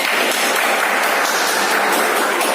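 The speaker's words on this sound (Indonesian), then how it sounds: "Tepuk tangan dulu untuk kawannya." Students in a classroom clap together for a classmate, a steady, dense patter of hands close by and fairly loud, continuing without pause.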